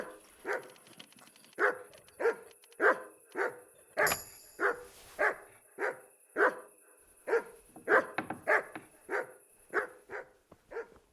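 Dog barking in the medieval video game Kingdom Come Deliverance, a long run of about twenty evenly spaced single barks, fairly close and moderately loud, briefly joined by a sharp clatter near the middle, with no talking.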